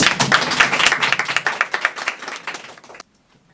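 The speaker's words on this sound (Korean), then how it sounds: "요건 박수 한번 주셔야겠네요." Audience applause at a Korean talk show lecture, a dense burst of clapping from a crowd lasting about three seconds, then stopping abruptly into near silence.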